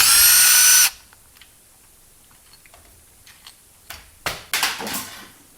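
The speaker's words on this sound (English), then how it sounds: "That was good on the drill this morning." A loud electric drill runs for just under a second while working on a Delco starter for a Chevrolet 4.6 V6, then stops, followed by quieter clicks and clattering of parts being handled.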